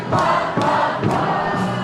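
A packed crowd at a Batavia Muckdogs baseball game against the Geneva Red Wings sings a song together, a loud, rhythmic chorus of many voices with regular swelling pulses.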